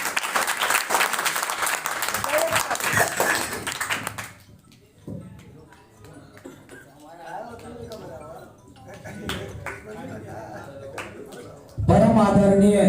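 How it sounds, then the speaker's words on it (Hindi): Audience applause at a Kasera community gathering in Sasaram for the Sahastrabahu birth anniversary, loud and dense for about four seconds, then fading into quieter crowd noise and voices before a loud burst at the end. "जितेंद्र जी के सम्मान में विशेष ताली।"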